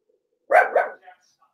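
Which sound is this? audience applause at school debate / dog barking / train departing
dog barking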